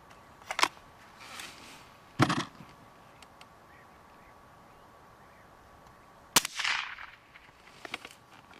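Several sharp, isolated shots from a GAMO Socom 1250 air rifle in 5.5 calibre, each a short crack with a brief ringing tail, spaced seconds apart over a quiet background.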